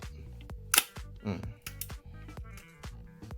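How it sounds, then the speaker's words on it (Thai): A camera shutter is tested at high shutter speeds, giving several sharp, quiet mechanical clicks at uneven intervals against a faint background hum. "ทีนี้มาเทสปีดชัตเตอร์สูงๆ ผมจะส่องไฟเหมือนเดิมนะครับ"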